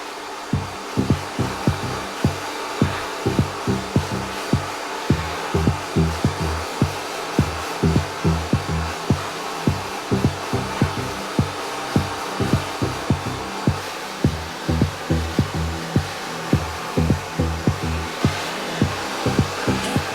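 A hair dryer on medium heat and high speed blow-dries hair close up, a loud continuous whoosh pulsing in a steady rhythm as the airflow moves through the hair, with no talking.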